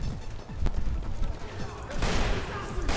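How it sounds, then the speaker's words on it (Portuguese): A magnum fired in Resident Evil 5 Mercenaries: a few sharp, punchy gunshot blasts among other game effects and background noise, with a loud burst of noise toward the end. "dei um tiro de magno no cara"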